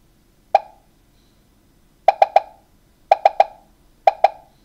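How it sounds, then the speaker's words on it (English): Short bright pop effects from a Scratch paddle game, heard alone in clusters: a single pop, then a quick triple, another triple, and a final pair, each crisp and close against a quiet background. "when it touches the paddle, it's going to play the pop sound"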